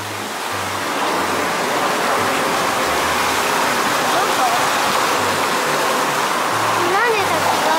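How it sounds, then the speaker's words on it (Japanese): An indoor waterfall in the buffet of the Keio Plaza Hotel gives off a loud, steady, unbroken rush of falling water, with faint voices at the edges. "滝があるね、すごいね。"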